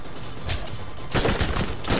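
Turrets and snipers fire in the video game Borderlands, a quick string of sharp gunshot bursts over steady background game noise, loudest near the middle and end.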